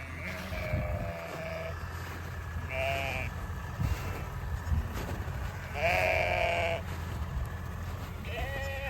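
Hair sheep flock of about 1,000 bleating in a snowy winter pasture at feeding time, several loud nearby bleats repeating over a constant low hum, with faint talk in the background.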